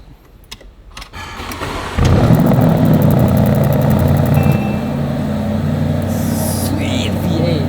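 A Porsche Cayenne Coupe Turbo with a 4-liter twin-turbo V8 starts after some clicks, then settles into a loud, steady deep idle, heard up close.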